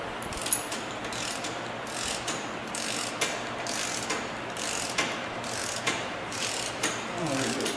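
A torque wrench tightens a Jeep JK Dynatrac ProRock 44 axle bolt to 100 foot-pounds, making a close, repeated ratcheting click about twice a second in a steady rhythm, with no talking.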